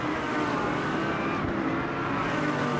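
GT3 race cars at Monza in the racing game Automobilista 2 give a dense, continuous engine roar, loud and close throughout, as cars are overtaken, with a brief dip in the middle.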